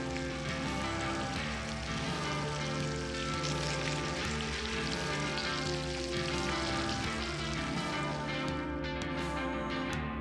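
A brie, basil and tomato skillet sizzles steadily, a dense continuous hiss under a faint music bed, with no talking.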